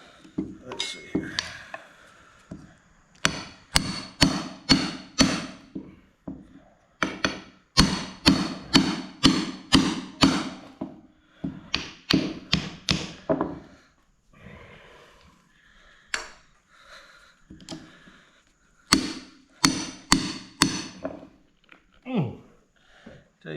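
Repeated hammer blows ring out in bursts of sharp metallic strikes while a claw is pried into an ambrosia maple log at a sawmill, close and loud, with pauses and people talking in between.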